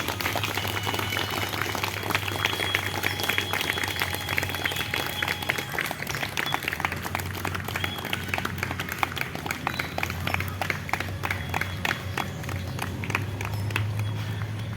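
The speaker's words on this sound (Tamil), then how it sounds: "எல்லாரும் நல்லா கிளாப் பண்ணணும்" Audience applause at a yoga event, a dense, steady wash of many hands clapping close by that carries on evenly for the whole stretch, with no voices above it.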